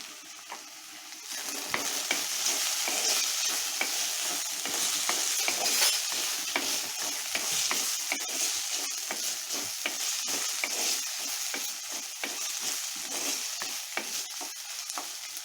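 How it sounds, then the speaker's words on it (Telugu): Vegetables with a little turmeric frying in a pan for tomato bath, a continuous close sizzle layered with busy, irregular scraping and tapping from stirring throughout. "వెజిటేబుల్స్ అన్నీ మంచిగా ఫ్రై అవుతూ ఉన్నాయి"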